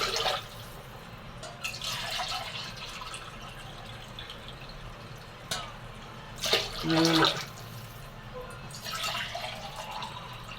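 Water splashing and pouring in several short bursts into a cooking pot, cupful by cupful, with quiet gaps between pours and a faint room hum underneath.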